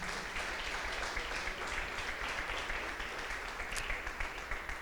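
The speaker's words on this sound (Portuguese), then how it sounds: "aplauda o Senhor pela vida do nosso irmão" A church congregation at a Protestant Reformation conference breaking into sustained, even applause that fills the room at a steady level throughout, with no distinct voices over it.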